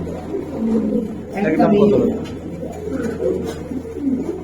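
Giribaz pigeons coo at a pigeon seller's, low continuous murmuring close by beneath people talking throughout.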